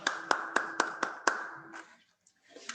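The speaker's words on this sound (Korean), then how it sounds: "우리 하나님께 영광의 박수 올려드리겠습니다." A youth congregation at a Sunday church service claps in a quick rhythmic burst of about six strong beats, then the applause scatters and fades out within two seconds.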